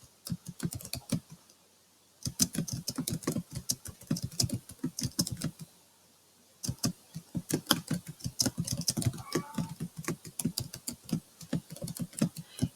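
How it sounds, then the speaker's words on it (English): Rapid keystrokes on a computer keyboard, close and clear, coming in dense bursts with a brief pause near two seconds and another around six seconds; no voices. "as I was typing, it was just predicting what might possibly be my next word"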